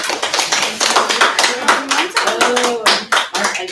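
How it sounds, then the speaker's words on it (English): A small classroom audience claps for a student's demonstration, with distinct individual hand claps in an uneven rhythm that stays fairly close and clear while voices murmur underneath. "Let's give Eric a round of applause"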